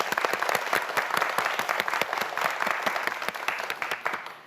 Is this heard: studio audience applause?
yes